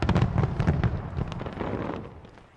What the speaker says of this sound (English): Australia, as usual, one of the first places to mark the new year with its traditional fireworks display in Sydney Harbour.